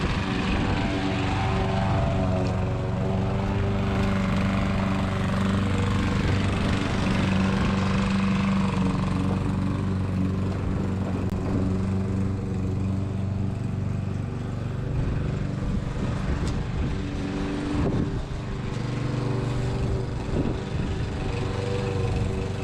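A lawn mower runs steadily and loudly throughout, mowing a freshly topsoiled and levelled lawn to pick up debris, its engine drone continuous with no talk over it.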